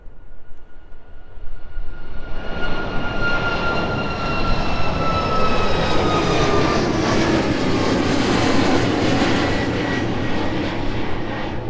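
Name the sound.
aircraft departing from runway 27 at East Midlands Airport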